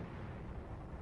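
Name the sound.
enemy artillery gun firing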